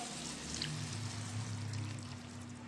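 A cup of water pours steadily into a pan of cooking bottle gourd, a close trickling splash running the whole time, with a low hum underneath.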